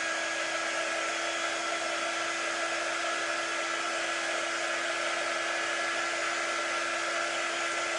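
A hair dryer drying a chalk-paste craft transfer on DIY home decor, a loud continuous close whine and rush of air held steady throughout, with no talking.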